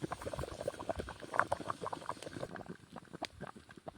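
A colostrum and milk mixture boils in a water bath, giving a quiet, busy stream of small bubbling pops and gurgles throughout.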